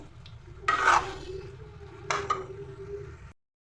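Cumin and coriander powder being stirred with a spoon in a cooking pot: two short scraping strokes, the first near 0.7 s and the second near 2.1 s, over a steady low kitchen hum.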